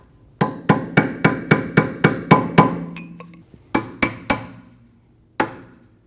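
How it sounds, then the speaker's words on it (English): Metallic hammer blows on a steel chisel, driving the cap off a rear wheel hub on a 2012-2022 Volkswagen Passat: a quick run of eight sharp ringing taps, a pause, three more, then one last strike, close and loud. "Use a hammer to tap on your chisel and pop the cap off."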